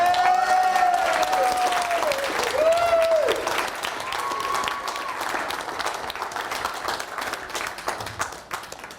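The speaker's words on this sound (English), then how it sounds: "Give him a big round of applause." Wedding guests at the speeches breaking into loud applause with whoops and cheers over the first seconds, then clapping that thins and fades toward the end.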